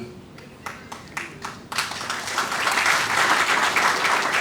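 Audience applause for the chief guest at a book launch ceremony for a book on Gandhi: a few separate claps at first, then swelling into steady, dense clapping from a crowd that holds loud to the end.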